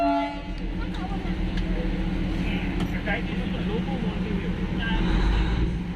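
The Darjeeling toy train pulls away from the station with a steady, close mechanical rumble and rattle of carriages, while people talk throughout.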